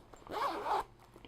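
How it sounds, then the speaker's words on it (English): A zipper on a small fabric sock-size knitting project bag makes one quick, close rasping pull of about half a second. It is quiet and stands alone, with no talk. "It is a sock-size bag with a zipper closer."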